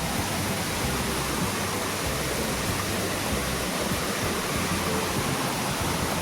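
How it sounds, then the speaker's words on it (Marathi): A forest waterfall pours in a continuous, dense roar of rushing water, steady and fairly loud throughout with no voices. "बघा म्हणजे हा जंगलाचा धबधबा आहे, इकडे कोण येत नाही."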